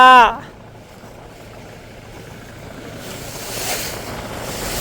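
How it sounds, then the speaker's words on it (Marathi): Dull rolling rush of rough sea waves at Karanja with wind noise, steady and moderately loud after a brief voice at the start, swelling slightly near the end. "बघा कसा मस्त एकदम लाटा बघायच्या लाटा"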